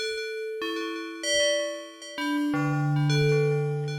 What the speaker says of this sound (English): I'm making a bell